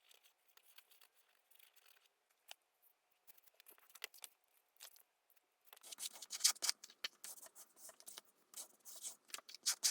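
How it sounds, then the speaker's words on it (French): Scissors trim paper for a handmade greeting card, faint scattered snips and light rustling at first, then a denser, louder burst of close cutting and paper crinkle toward the end. "Je découpe tout ce qui dépasse."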